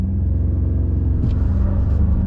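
A Ford Ranger Tremor pickup truck engine in sport mode roars and rumbles with a deep, steady growl, rising slightly as it accelerates, loud and close throughout.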